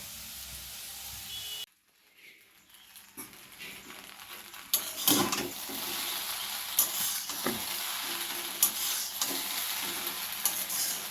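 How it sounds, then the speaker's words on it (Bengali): Potatoes fry in a pan at a food stall, giving a steady, close sizzle broken by repeated metal stirring scrapes and clanks after a short quiet gap. "আর এখানে আলুটা ভাজা হচ্ছে"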